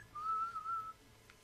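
A character in the video game Fable 3 whistles one sustained, steady note for nearly a second, clear and fairly loud over a quiet background.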